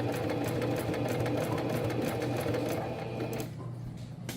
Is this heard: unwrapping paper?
no